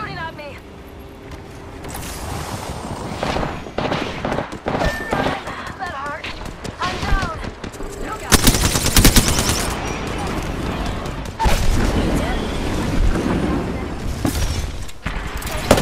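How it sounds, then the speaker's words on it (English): Bandits open fire during a space combat fight in the game Valk, with bursts of gunfire and sharp impacts over a busy mix of effects, while a player talks excitedly throughout. "We got bandits out there. Should air pressure stop bandit in my sights? They're shooting at me!"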